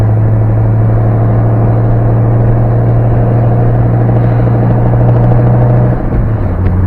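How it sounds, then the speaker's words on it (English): A Ford Mustang rolls past slowly, its engine giving a loud, steady low rumble that holds for about six seconds and then drops in pitch near the end. "It's the Mustang driving slow."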